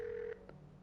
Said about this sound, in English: I hear a phone. Ring ring.